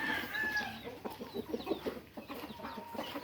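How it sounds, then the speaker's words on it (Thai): Small and large chickens cluck and crow together at an evening feeding, a busy overlapping chorus of clucks and calls with scattered pecking sounds close by throughout. "ให้ทั้งไก่เล็กไก่ใหญ่นะครับ กินด้วยกันหมดเลยนะครับ"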